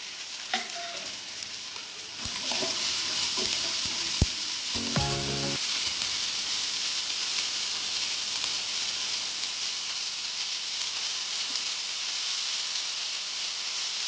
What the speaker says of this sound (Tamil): இப்போ வெங்காயத்தை சேர்த்து நல்லா வதக்கிக்கலாம்.